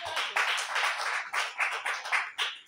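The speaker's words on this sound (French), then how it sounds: "Applaudis pour ta vie." Congregation at a French-language church service clapping in rhythmic waves, a close, lively run of hand claps with regular peaks, no voices over it.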